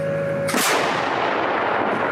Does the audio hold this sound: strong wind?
no